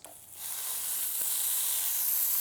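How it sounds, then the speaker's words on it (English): Hamburgers sizzling on a hot Zojirushi indoor electric grill, a steady bright hiss that swells after a brief start and holds loud and continuous, with no talking. "And immediately, do you hear that sizzle?"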